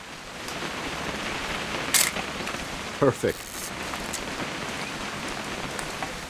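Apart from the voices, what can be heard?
rain falling in video game What Remains of Edith Finch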